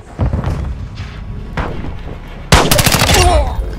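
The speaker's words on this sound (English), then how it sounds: "He's throwing a stun grenade." A stun grenade goes off in a video game: one sudden, loud, sharp bang about two-thirds through, trailing into crackling noise, after quieter rumbling game sounds and faint movement.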